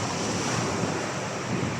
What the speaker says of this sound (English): I hope the wind and the waves don't overrule